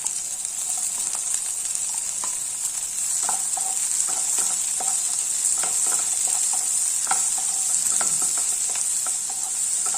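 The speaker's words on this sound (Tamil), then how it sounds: "வெங்காயம் ஓரளவு வதங்கிடுச்சு நம்ம இந்த ஸ்டேஜில் தக்காளி சேர்த்துடலாம்" Tomatoes sautéing with softened onions in a pan for dal tadka, a continuous loud sizzle with scattered crackles and spoon stirring clicks throughout, no talk.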